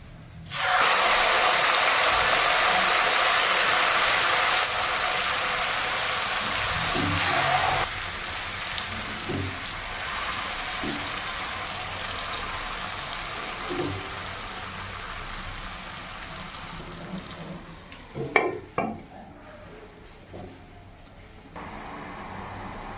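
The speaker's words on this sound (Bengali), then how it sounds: "তিরিশ থেকে 40 সেকেন্ডের মতন হালকা করে ভেজে নিয়ে দিলাম ম্যারিনেট করা চিকেনের পিসগুলো" Marinated chicken pieces for a wedding-style chicken chaap hit a hot pan with a loud, bright hiss that gradually settles into a quieter sizzle, with a few clatters near the end.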